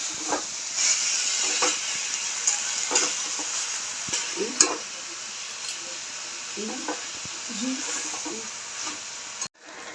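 Banana flower curry with ground garam masala sizzles and hisses in a pan while a spoon scrapes and stirs it in irregular strokes, until the sound cuts off abruptly just before the end.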